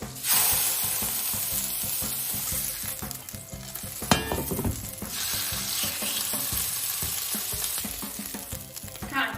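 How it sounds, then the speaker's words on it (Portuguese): Meat hits butter in a frying pan, loud sustained sizzling and spitting with stirring scrapes and a sharp clatter partway through, close up and without talk. "Agora aqui na mesma frigideira adiciono mais um pouco de manteiga e já entro com a carne"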